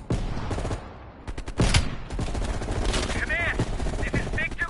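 Gunfire rings out in a military shooter video game, with sharp shots and rapid bursts over a noisy battle backdrop, close and loud, with radio-style voices talking amid the fighting.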